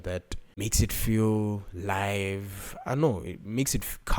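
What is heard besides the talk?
None of the usual background noises is heard.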